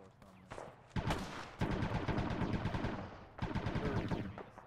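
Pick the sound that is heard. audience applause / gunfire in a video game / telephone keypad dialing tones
gunfire in a video game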